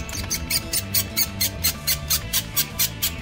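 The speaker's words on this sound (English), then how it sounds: "Transponder sounds like it's in great pain." A search and rescue transponder (SART) is switched to test mode and gives out a piercing, distressed-sounding signal. Loud, rapid high chirps pulse in a steady rhythm of about three per second, close by, with no talking.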